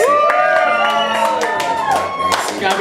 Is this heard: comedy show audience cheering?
yes